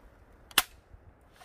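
A single sharp airsoft pistol shot cracks out at close range, one brief bright report standing alone against a quiet background.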